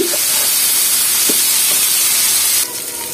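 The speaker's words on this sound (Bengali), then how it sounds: "তো এগুলো মাছের তেলে ভেজে নিচ্ছি।" Spiny gourd (kakrol) fries in hilsa fish oil with a loud, dense, close sizzling hiss. It holds steady, then drops slightly near the end, with no voices.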